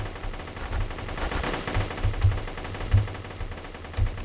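A mounted machine gun in the blocky shooter game GunCraft rattles in quick bursts of rapid thudding shots, fairly close, with uneven pauses and no speech.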